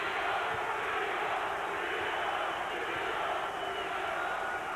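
A large arena crowd at the Alvarado vs Rios 2 boxing match roars and chants for Brandon Rios, a dense, steady wall of voices filling the hall without letup.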